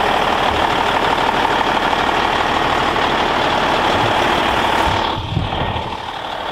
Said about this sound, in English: Our tow truck has arrived, so we're gonna be heading home soon.